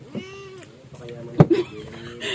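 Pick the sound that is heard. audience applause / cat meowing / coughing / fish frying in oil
cat meowing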